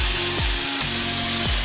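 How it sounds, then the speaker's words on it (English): Olive oil sprays in a steady hiss over peppers cooking for an egg white scramble and home fries, the close, continuous spray sitting over a low humming drone. "I'm gonna spray a little more olive oil over the top of them"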